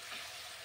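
Spice paste with sugar sautéing in a pan for a Bengali rui fish curry with cauliflower gives a faint, steady, hissing sizzle that runs without a break.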